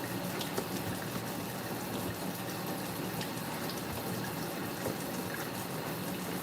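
A kitchen tap runs in a steady, full gush while dishes are rinsed under it. The stream sounds close and continuous, with no voices over it.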